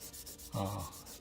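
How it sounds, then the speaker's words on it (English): White jeweler's rouge is rubbed onto a cardboard bag stiffener, giving one short, soft scraping rub heard alone and quietly. "I'm now rubbing on here some white jeweler's rouge"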